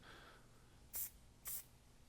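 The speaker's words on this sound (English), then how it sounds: "by spritzing the spray wax in little by little" Two short hissing spritzes of spray wax onto hair during a mullet haircut styling, about half a second apart, close and crisp against a quiet background.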